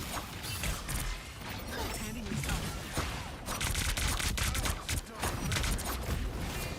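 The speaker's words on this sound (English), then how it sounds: "Firing it down range." Rapid gunfire from a hero's weapon in the video game Marvel Rivals, dense bursts of shots layered with mechanical clatter and game effects, loud and continuous throughout.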